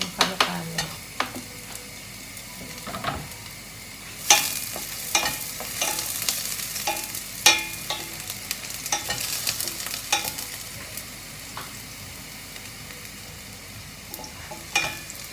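Garlic frying in a pan in a home kitchen, a soft continuous sizzle broken by sharp clinks and scrapes of a utensil stirring at irregular intervals, fairly close, with no talking.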